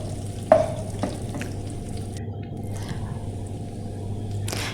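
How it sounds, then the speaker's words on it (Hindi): Onions frying in hot ghee give a steady close sizzle with a sharp clink of a utensil at the start and soft scraping stirs, with no talking. "घी को गरम करके प्याज डाला है और उसके बाद मैंने इसको ज़रा भूनना है"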